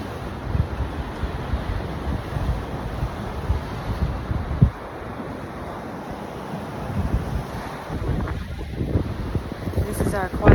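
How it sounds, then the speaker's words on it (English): Turbulent wind gusts buffet the microphone on the shore of Long Island Sound while rough waves churn beneath, loud and continuous, with a faint voice partly buried under the roar. "the wind is so turbulent and the waves are so turbulent"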